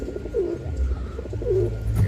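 Andalusian-coloured pigeons, a male and two females, coo in soft repeated phrases close by, a low steady hum beneath them.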